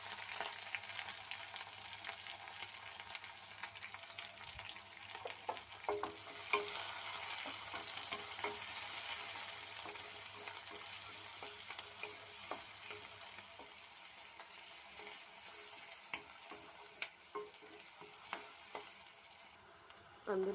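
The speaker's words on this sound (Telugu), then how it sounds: "ఇప్పుడు అందులో ఉల్లిపాయ పచ్చిమిరపకాయలు వేసుకోవాలి." Onions and green chillies fry in hot oil with crackling mustard seeds and cumin, a steady dense sizzle with scattered pops and occasional stirring scrapes throughout.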